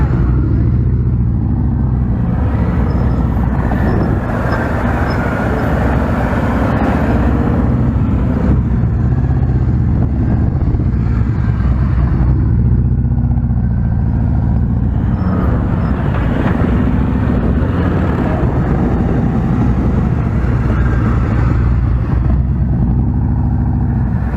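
Police motorcycles in officer training run steadily nearby while riding and leaning through U-turns, a continuous low engine rumble with slight swells as the bikes turn.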